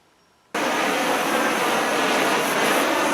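A cutting torch lit and cutting thick metal, a sudden onset of loud, steady broadband roaring hiss that continues without a break after a quiet start.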